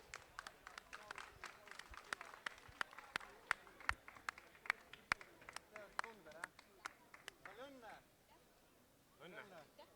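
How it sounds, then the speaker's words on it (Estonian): Audience applause at the Robotex 2013 award ceremony, given as the third-place winner of the LEGO line-following robot contest comes on stage: a run of sharp, scattered claps, fading toward the end. "Aplaus."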